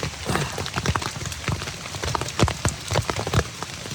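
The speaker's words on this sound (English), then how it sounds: "Hopefully it's just a light hail." Light hail pelting a tent during a storm in the San Juan Mountains, a dense, irregular patter of close, sharp impacts with scattered louder hits throughout.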